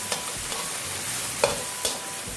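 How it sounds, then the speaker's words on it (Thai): Shrimp and garlic stir-fry in hot oil for Thai shrimp fried rice, a bright, constant sizzle up close punctuated by a few quick spatula scrapes against the pan, no voices. "เดี๋ยวเราจะเอากุ้งลงไป ผัดสักนิดนึงนะคะ"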